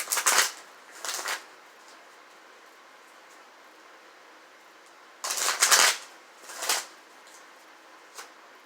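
Tarot cards are shuffled in several brisk riffling bursts, a pair early on and more after a pause, close and crisp.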